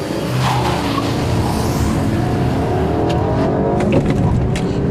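A 2014 Volkswagen CC R-Line with a turbocharged engine launches from a standstill at about 3,000 rpm on a racetrack, a loud, close, steadily rising engine roar with a brief tire squeal.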